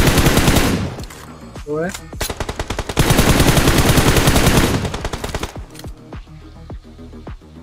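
Rapid bursts of automatic gunfire and single shots from PUBG Mobile, loud and close, firing in long volleys with short pauses and a few sharp reports near the end, with a brief spoken question.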